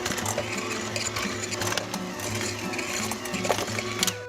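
An electric mixer beats cream cheese with sugar and cocoa powder, making a close, steady whirring motor drone with rattling, clicking mechanical texture throughout and no talking.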